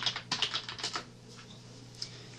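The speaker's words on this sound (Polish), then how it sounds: "wpisujemy sobie polecenie diskpart" Quiet keystrokes on a computer keyboard while entering a command: a quick burst of soft clicks, then a pause and a single final tap.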